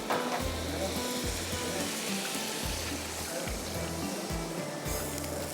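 Yakhni stock poured into a hot pan of sizzling beef nihari, a loud steady sizzle and bubbling hiss close up with no talk.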